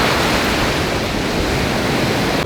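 Ocean surf breaking on a beach in Mexico, a steady, full wash of roaring water that holds constant and loud throughout with no voices.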